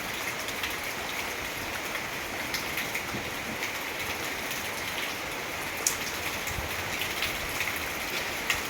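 Steady rain falls without a break, a dense even patter with a few sharper drops standing out near the end.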